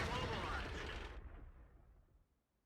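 A tank's cannon round strikes armor and ricochets off in World of Tanks, heard as a loud, close single blast that fades over about two seconds with a muffled rumbling tail.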